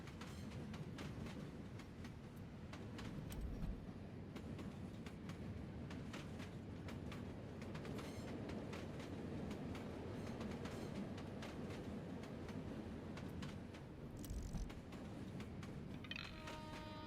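Train wheels roll over the rails in a video game, a steady rumbling clatter with periodic clicks carrying on without a break at low volume.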